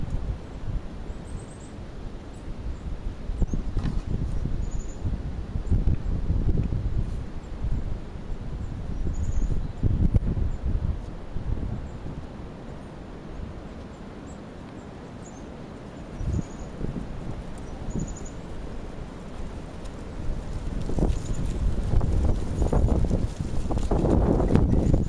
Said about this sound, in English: If it wasn't for the damn wind, it would be pretty good.